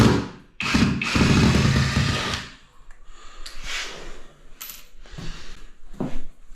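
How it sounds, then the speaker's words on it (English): Small screws being backed out of a cheap towel rail fitting, probably with a powered driver: a few short buzzing bursts of driving alongside handling clicks and light metallic clinks, close by with no talk. "Let's unscrew that."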